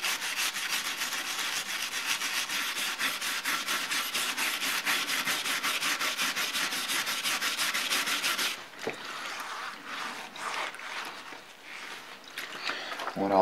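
A brush scrubs degreaser off the scraped metal surface of a Bridgeport rotary table, giving a steady, fast rhythmic scratching close by that softens and turns more irregular partway through, with no talking.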